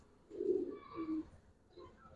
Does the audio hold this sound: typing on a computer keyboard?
no